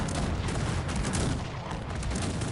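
Dense, continuous volleys of gunfire and artillery booms from a Cossacks 3 battle in which units shoot at artillery depots, loud and unbroken throughout.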